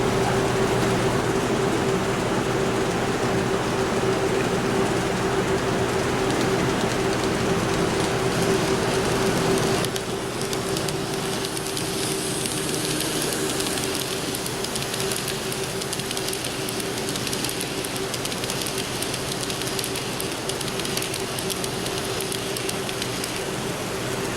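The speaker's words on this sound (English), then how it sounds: "Dennis has got his Amtrak train running" An N scale model Amtrak train runs on a layout at a club run day, giving a steady, faint mechanical hum and rolling rumble that continues unbroken, shifting slightly in tone partway through.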